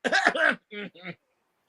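A short burst of coughing: one harsh, drawn-out cough followed by two smaller ones, close and clear, then silence.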